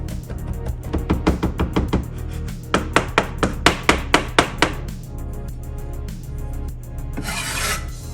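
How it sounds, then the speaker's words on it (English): A knife chops ingredients for homemade fish food on a cutting board, making a quick, steady run of sharp strikes in bursts, close and fairly loud, with a short rasping scrape near the end. "Chopping is very important, so you can chop it to smaller pieces."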